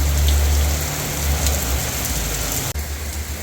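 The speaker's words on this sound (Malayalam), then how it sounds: "വലിയൊരു കാറ്റൊന്നുമില്ല, പക്ഷെ നല്ല മഴ ഉണ്ട് കേട്ടോ" Steady heavy rain beats down on a road in Jeddah, a thick unbroken wash of drops with a low rumble beneath and a brief dip near the end; no voices are heard.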